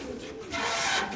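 A pigeon at a pigeon farm gives a short, soft cooing call up close, brief and low, with faint background noise and no clear talking.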